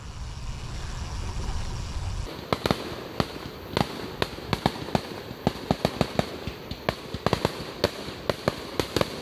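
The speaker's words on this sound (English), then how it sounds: "Fireworks." Fireworks go off outdoors on an end-of-summer 2021 city bike ride: after a couple of seconds of steady rushing noise, a string of sharp, loud bangs and crackles pops irregularly.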